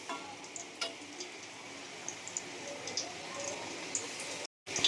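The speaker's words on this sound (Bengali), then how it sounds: "তো আলুগুলো ভাজছি, আর এদিকে বেরেস্তা ভাজা হয়েছে, আর এখানে আলুগুলো ভেজে নিচ্ছি" Potatoes frying in a pan of oil for biryani give off a faint, steady sizzle with small intermittent ticks and pops, quiet and close, briefly cutting out near the end.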